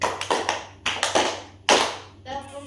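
Children in a classroom clap a rhythmic pattern: several sharp, loud hand claps in uneven groups, close by, followed by a short burst of children's voices at the end.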